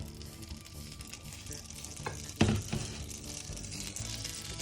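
Butter melting and sizzling in a pan before buckwheat galette batter goes in, a soft continuous hiss with one louder clatter of the pan partway through, close and alone.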